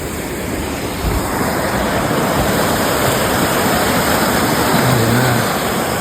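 Water in a creek rushes beneath a small footbridge, a loud, steady broadband roar with no pauses and no voices.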